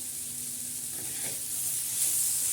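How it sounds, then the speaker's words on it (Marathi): Finely chopped bitter gourd sizzling on a flat griddle, a continuous hissing fry that swells slightly as it is stirred, with soft scraping underneath and no voices. "तर परत एकदा असं हलवून घेऊया."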